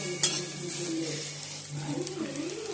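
Steady frying sizzle of eggplant in a pan with a brief clink near the start, a constant crackling hiss throughout with no voices.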